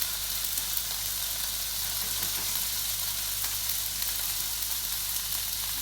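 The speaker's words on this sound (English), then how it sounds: "pan's hot, don't forget, get the meat, cover it in olive oil, and then into said pan" Fillet steak coated in olive oil sizzles loudly and steadily in a hot pan, a dense, even hiss that holds without a break.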